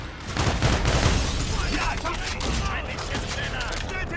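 Gunfire from the shooter video game Call of Duty: Infinite Warfare, dense overlapping shots and explosions forming a loud continuous barrage with no clear gaps.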